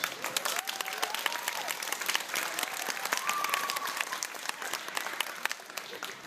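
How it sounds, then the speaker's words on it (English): Audience applause at a school honor band concert, a steady patter of many hands clapping at moderate volume, fairly distant, with a few faint voices underneath. "So give yourselves a round of applause"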